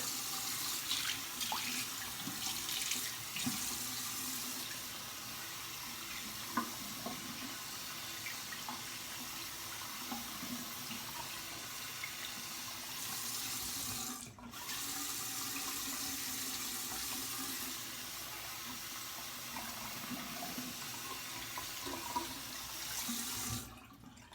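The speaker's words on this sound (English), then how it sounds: "I always like to do a warm water, cold water rinse." Tap water runs steadily into a sink for a warm then cold rinse after a head shave, an even rushing flow with a brief break midway and no speech.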